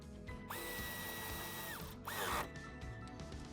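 A power drill whines as it drives a screw into a grounding point on the body of a 2025 Omoda 9 during a towbar install. Two close, loud bursts sound: a long steady run, then a shorter one that winds up and stops.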